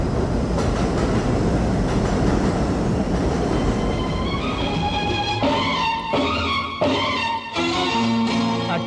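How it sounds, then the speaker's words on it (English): New York's number 7 subway train rumbles along the tracks, a loud continuous roar that gives way to rhythmic clattering wheels and squealing, tonal brake and motor whines as it slows. "at many of the stops along the number 7 train, you'll find a Delgado office"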